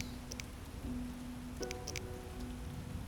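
Rain falls in the video game The Witcher: Enhanced Edition, a faint, steady patter with a low ambient hum and a few soft chimes over it.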